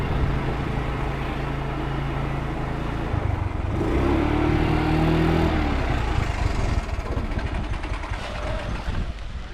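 Parked motorcycle idling outdoors at a home, a steady low engine rumble running close and continuous with a brief rise in the middle, amid general outdoor noise.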